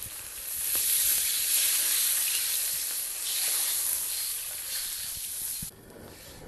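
A loud hissing sizzle swells as water is added to a hot pan of melted Sichuan hot pot base, surging and easing for several seconds before dropping to a quieter simmer near the end.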